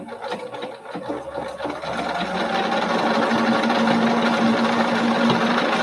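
A sewing machine stitches a double buttonhole, its needle running in a fast, even mechanical whir that steadies into a continuous drone after a few softer, uneven bursts at the start.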